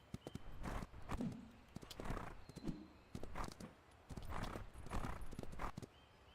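Hooves clip-clop in a steady walking rhythm on a horse in the ranch game Ranch of Rivershine, with a few soft snorts, fairly quiet and clear with no talking.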